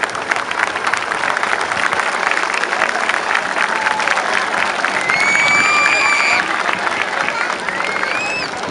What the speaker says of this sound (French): on va applaudir vos éducateurs si vous voulez bien.